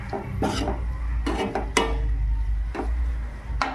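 Chili frying in a pan for North Karnataka-style puri chutney, with a steady low sizzle under repeated sharp clinks and scrapes of a utensil against the pan, close and fairly loud.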